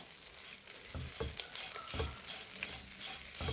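Grated coconut for green bean thoran is stir-fried in a pan, with a soft steady sizzle and repeated light scraping stirs at an even pace, close and fairly quiet.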